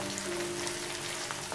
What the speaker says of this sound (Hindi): तो मिर्च को अदरक को अच्छे से भून लेंगे।